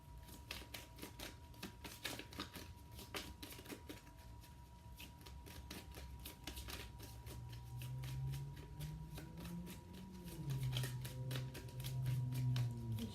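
Tarot cards being shuffled by hand, a steady run of crisp riffling clicks and flutters close by, with a low hum underneath that swells toward the end.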